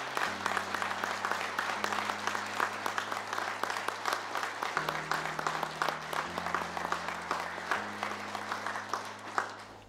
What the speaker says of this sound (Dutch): Een warm applaus.